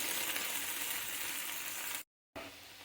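Onion and green chilli pieces fry in a pan for a ladyfinger curry, making a continuous close hiss that cuts out briefly before resuming.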